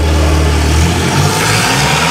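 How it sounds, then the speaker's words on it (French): A KTM X-Bow sports car engine revving loudly up close, a dense roaring drone that swells and then settles into a lower rumble, with no talking. "Et ça c'est le bruit de la KTM."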